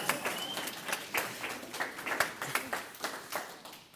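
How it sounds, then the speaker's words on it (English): A small audience claps after a lecture on pharmaceuticals in waterways. The claps are distinct and fairly sparse, heard close and moderately loud, and they keep a loose uneven rhythm for four seconds. "Can we give them a round of applause,"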